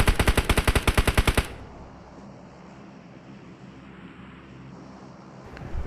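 Automatic weapon fire in the mobile battle-royale game PUBG Mobile, a fast loud burst of about a dozen evenly spaced shots lasting just over a second, followed by quiet ambient game noise and a faint click at the end.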